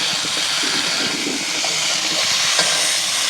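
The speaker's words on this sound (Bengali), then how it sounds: "রান্না হচ্ছে দেশি পদ্ধতিতে ঘরোয়া পদ্ধতিতে মাটির চুলায়" Sweet potato seasoned with turmeric and salt frying on a traditional clay stove, giving a steady, close sizzling hiss that holds evenly throughout with no talking.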